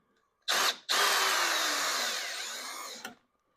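Power drill driving a bolt into a CNC mount extension for a Onefinity Elite machine, a loud close whirring burst, a brief stop, then a steady run of about two seconds that slowly slows before cutting off, no talking.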